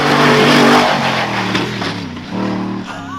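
A V8 Toyota Hilux 4WD enduro race truck revs hard over a rolling crest, loud close engine roar rising and dipping as the throttle comes off and back on.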